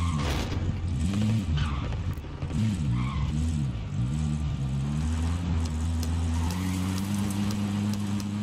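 A car engine drones and shifts pitch as a vehicle is driven in the Call of Duty Warzone video game, steady revving tones rising and falling throughout with no one talking.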